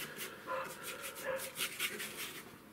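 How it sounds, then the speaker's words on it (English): Dogs bark outside, coming through an open loft window. The barks are distant and fairly faint, arriving in short irregular bursts against the quiet room. "have to put up with the barking dogs"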